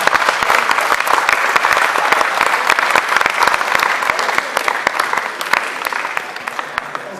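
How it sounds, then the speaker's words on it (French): Loud, enthusiastic applause from an audience honouring the Hachette Le Grand club, dense rapid clapping sustained for several seconds and tapering slightly toward the end. "Je tiens à faire un tonnerre d'applaudissements pour le club d'Hachette Le Grand et leur implication."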